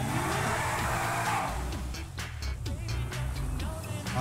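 A Dinka Jester sports car in GTA V revs its engine up and down close by, a continuous loud motor roar with rising and falling pitch sweeps and a brief tire-like squeal partway through.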